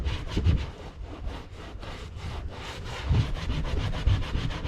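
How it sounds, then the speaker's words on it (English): Old material being scuffed off a Pontiac 6000 wagon interior panel by hand, a series of rough, rhythmic rubbing strokes, close and fairly loud, with no talking. "Try to take something to it and scuff all that off of here, whether it just be my hand or what."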